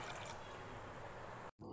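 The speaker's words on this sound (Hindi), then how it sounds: "हम इसके अंदर तीन गिलास पानी ऐड करेंगे" Water pours steadily into a cooking pan holding soaked chickpeas on a stove, a continuous soft splashing rush that cuts off briefly near the end before resuming, with no talking.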